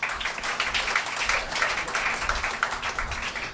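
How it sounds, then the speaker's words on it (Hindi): A short burst of steady clapping from a crowd at a function for a boys' cricket tour to Kutch, dense and continuous with no voices over it. "उनके लिए भी जोरदार तालियाँ।"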